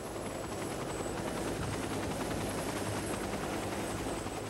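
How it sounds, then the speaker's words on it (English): A medical life flight helicopter's rotor thrums steadily and loudly throughout, a constant whirring drone with no pauses. "A life flight helicopter transported Trista the 17 miles to Eggleston Children's Hospital."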